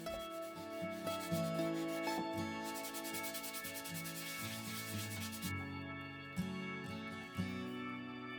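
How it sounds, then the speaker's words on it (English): Fine 400-grit sandpaper rubs over an air-dried clay box made with coffee grounds, giving a quiet, continuous scratchy rasp under soft background music. "400 grit sandpaper for a smooth finish"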